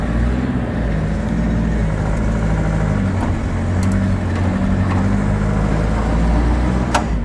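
A Toyota Hilux SR pickup's engine runs loud and steady off-road during a 4x4 traction test, with a constant low rumble and occasional faint clicks and knocks.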